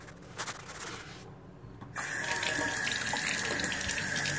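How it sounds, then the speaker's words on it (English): A car headlight lens is rinsed under a running sink faucet; after a quiet gap the water bursts on into a steady, loud, close splashing stream, with some handling rubs beforehand. "now I'm just going to take this and rinse it in the sink here."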